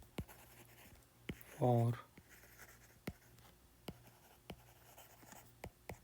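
Handwriting during a physics lesson: sharp, evenly spaced pen or chalk taps and strokes sound close and quiet, with a brief spoken word in the middle.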